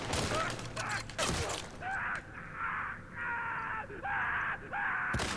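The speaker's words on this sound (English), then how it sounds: "Stop shooting me." Gunfire in The Last of Us Part II. Sharp, loud shots come at the start and the end, with shouting and screams between them.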